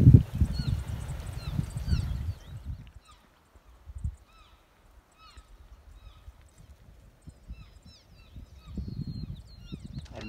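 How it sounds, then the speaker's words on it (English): Faint high, short chirps from elk calves calling to their mothers, scattered through the clip against a quiet outdoor background, with low rumbling noise and handling at the start and end. "if you can hear the little calves talking. That's that little chirp."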